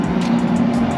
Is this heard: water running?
no